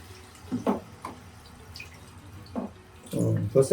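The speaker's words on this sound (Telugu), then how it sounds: "వాటర్ కలిపేసుకుందాం" Water is poured into curry simmering in a pot, heard as a few short splashing pours and trickles, fairly quiet, with a longer pour toward the end.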